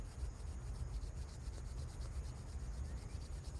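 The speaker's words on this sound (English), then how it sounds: "So we'll rub our hands together." Palms rubbing together briskly to build warmth, a soft continuous friction hiss that stays close and steady without pause, no talking over it.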